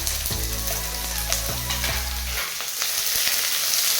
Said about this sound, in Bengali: এরপর পেঁয়াজ কুচিগুলোকে লাল করে ভেজে নেব।